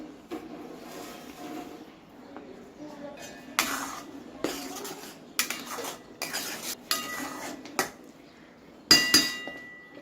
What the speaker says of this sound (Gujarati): તમારે સારી રીતે હલાવી લેવાની, આ રીતે તેલમાં મિક્સ કરી લેવાની।